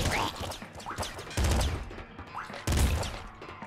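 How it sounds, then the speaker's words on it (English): Pop gun fire in the Nuclear Throne video game comes in loud, rapid bursts of small popping shots, several clustered volleys with brief pauses between them and no talk. "Oh, the pop gun again."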